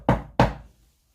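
Two sharp knocks on a hardwood floor, close and loud, about a third of a second apart, each with a short decay, followed by quiet.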